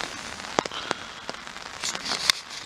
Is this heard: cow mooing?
no